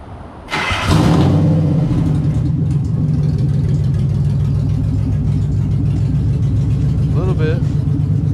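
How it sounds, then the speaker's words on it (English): A drift car engine fires up and settles into a loud, steady, throaty rumble through an aftermarket exhaust, with a brief voice near the end. "we went ahead and put an exhaust on the car."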